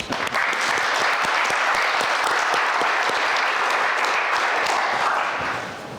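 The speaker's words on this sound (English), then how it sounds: "So can we just clap for Rich" Audience applause after a literary conversation event honoring a community member, steady and dense clapping from a full room for about six seconds before tapering slightly at the end.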